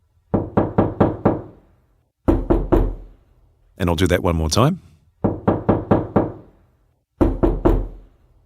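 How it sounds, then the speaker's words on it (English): A binaural recording of someone knocking on a door. Several crisp bursts of four or five quick raps each stand out sharply against silence, and a brief spoken remark comes between two of the bursts. "here's an example of a knock at the door recorded with the binaural method"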